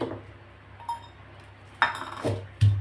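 Roasted bombil (Bombay duck) with coriander is pounded in a stone mortar and pestle. A few sharp, hard knocks land unevenly over a quiet kitchen background.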